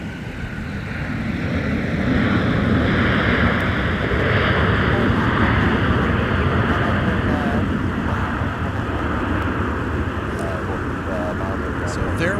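Airliners at Minneapolis–Saint Paul airport in winter, with de-icing underway and planes arriving and departing, make a loud, sustained jet roar that swells and holds across the clip, mixed with nearby traffic and scanner-like background.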